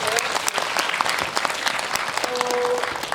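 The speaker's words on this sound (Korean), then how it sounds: "박수 한번 부탁드릴게요" An audience at a film screening and director-and-cast Q&A in a cinema hall bursts into sustained, dense applause, many hands clapping loudly and evenly throughout with some crowd murmur mixed in.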